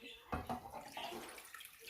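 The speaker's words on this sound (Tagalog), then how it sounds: "Tapos, lalagyan ko po siya ng tubig." Water pours in a steady splashing stream into a cooking pot for pasta in tomato sauce with mussels, close by, with a couple of louder splashes near the start and then a continuous rush.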